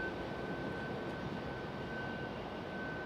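An American Eagle regional jet operated by Republic Airways at Raleigh-Durham International Airport in stormy weather, a steady broadband engine roar with a thin whining tone running under it, constant and fairly loud.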